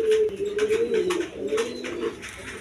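A pair of yellow Lahori pigeons coo softly in a close, low, rolling murmur of repeated throaty notes, with no talking.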